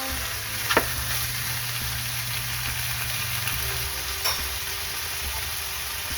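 Chicken pieces frying with softened tomatoes in a pan for Filipino chicken caldereta, a steady close sizzle with two sharp clinks of a utensil against the pan.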